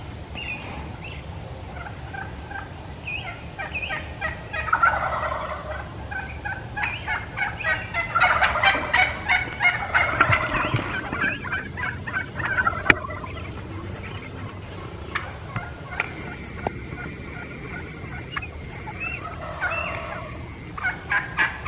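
Wild turkeys shock gobble outdoors near a roost, several birds answering one another in repeated rattling gobbles, some close and some farther off, over a steady background hum.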